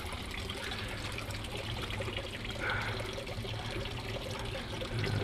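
Water draining back out of an aquaponics growbed filled with rock, a continuous soft trickling and gurgling that stays faint and steady throughout, with no talking.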